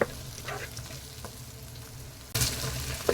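Tomatoes and onions sauté in a pan for a Tamil bitter gourd fry, a steady close sizzle with faint stirring scrapes and a louder burst of frying near the end.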